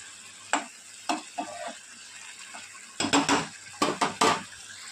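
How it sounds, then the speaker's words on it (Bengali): Pomfret fish curry bubbles in a pan as the fish pieces are turned. Soft sizzling sits under a few sharp spatula scrapes and knocks that come singly at first, then in a quick cluster, close by with no talking. "মাছগুলো দিয়ে একটু উল্টে দেবো। এক মিনিট মতো ফুটিয়ে নিয়েই নামিয়ে নেবো।"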